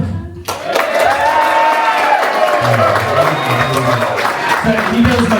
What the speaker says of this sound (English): So we'll introduce Adam, and as loud as you can, claps and cheers for me.